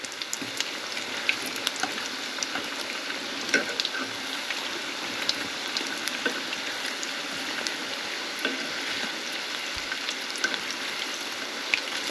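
Lightly battered chicken pieces frying in hot oil in a frying pan crackle and sizzle steadily up close, a dense continuous spatter with scattered sharp pops throughout.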